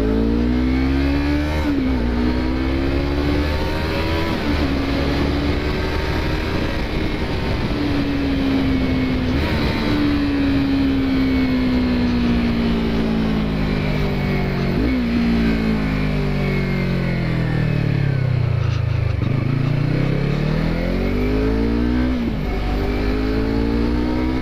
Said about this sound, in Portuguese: Vamos dar uma acelerada agora, galera.